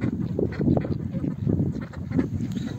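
A duck quacks repeatedly in quick, loud bursts close by, a chattering run of calls with no talking.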